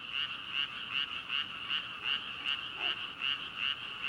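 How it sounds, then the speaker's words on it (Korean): Frogs croak in a steady, fast, pulsing rhythm, about two or three calls each second, loud and close over a faint background hiss. "맞아요. 개구리 소리예요."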